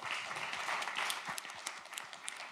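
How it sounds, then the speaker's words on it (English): A conference audience at an open source event gives a short burst of applause, a steady patter of many hands clapping at a modest, somewhat distant level. "another round of applause for Gabri"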